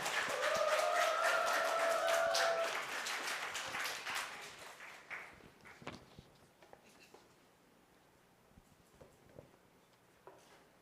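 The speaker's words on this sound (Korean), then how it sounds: "우리 큰 박수로 맞이하도록 하겠습니다" A congregation at a youth worship service applauds to welcome a speaker, dense clapping for about four seconds with a brief tonal voice or cheer over it, then thinning to a few scattered claps and taps in a quiet room.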